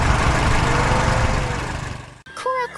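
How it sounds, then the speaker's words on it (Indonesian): Blue tractor engine driving over rocky ground: a steady, loud, rough drone that cuts off abruptly after about two seconds, followed by a short voice. "Traktor biru melintas di tengah tanah berbatu"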